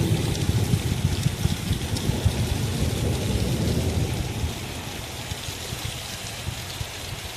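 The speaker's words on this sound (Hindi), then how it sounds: "बारिश आ रही है तो अच्छी बात है" Heavy rain pours steadily during a thunderstorm in a rural wheat-growing area, with a dense hiss of falling water and a deep rumbling of thunder underneath that eases slightly toward the end.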